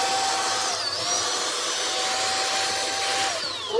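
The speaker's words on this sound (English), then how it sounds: "I'm just going to do the vacuum first." A Shark VACMOP Pro cordless vacuum mop runs steadily and close by with a constant motor whine, a faint tonal hum sitting over broadband airflow noise, holding level throughout with no voices.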